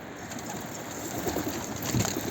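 Soft, low pigeon coos close by over a steady background hum, with no talking.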